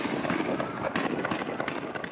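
Sharp cracks of gunfire ring out in quick, irregular bursts in the West Bank amid unrest with burning tires, loud and fairly close, with no talking.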